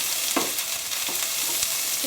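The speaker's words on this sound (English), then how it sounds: "What I'm going to do now is add my other vegetables in as well. And I'm going to stir these around." Browning onions and other vegetables sizzle and fry in a hot pan while being stirred, a dense, steady frying hiss broken by a few soft scraping stirs.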